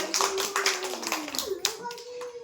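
A group of children clap their hands in scattered, uneven bursts at a school flower-garden activity, with a voice speaking faintly underneath.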